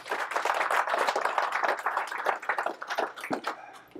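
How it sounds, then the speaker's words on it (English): An audience at an electric vehicle club general meeting claps in a burst of dense, close applause that tapers off over a few seconds. "I'd like to say thank you and have at least give applause for these guys"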